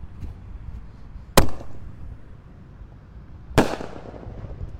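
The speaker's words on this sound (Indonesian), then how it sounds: "di sini ada mercon elang emas guys, jumbo ini. Kita nyalakan ya. Siap meluncur." A jumbo Elang Emas firework goes off outdoors, two sharp loud bursts about two seconds apart, each followed by a brief decaying hiss, over a low background rumble.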